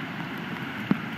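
Steady rain patters through a forest during a climb over slippery rocks, forming a soft, even hiss with one brief close drip or tap near the end.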